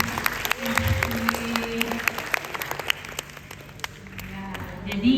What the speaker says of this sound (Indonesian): Iya, boleh tepuk tangannya ibu bapak.